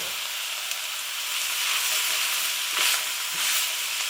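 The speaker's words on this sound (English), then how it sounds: "I'm adding the peppers and the sweet potato." Peppers and sweet potato go into a vegetable stew sizzling in a hot pan, a steady bright frying hiss that swells slightly midway, with a few soft knocks as pieces land.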